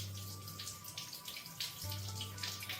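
Tap water runs steadily while sweet potatoes are washed by hand in a sink, a soft continuous splashing with faint irregular spatters over a low electrical hum.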